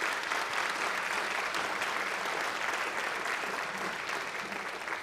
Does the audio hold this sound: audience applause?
yes